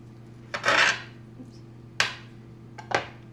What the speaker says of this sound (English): Now that you have rolled the dough, we are going to cut these